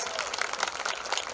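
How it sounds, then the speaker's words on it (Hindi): An audience at a poetry recital applauds loudly in a dense, continuous patter of clapping, with some voices mixed in. "एक बार जोरदार तालियां उठा दीजिए"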